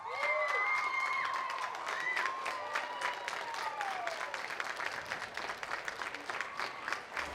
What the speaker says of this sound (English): one last big round of applause for all these great contestants